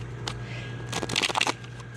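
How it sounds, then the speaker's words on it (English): A quick, crisp riffle of tarot cards being shuffled close by, a brief flurry of soft flicks after a single tap, against a faint hum. "Let's just give them a good little shuffling here."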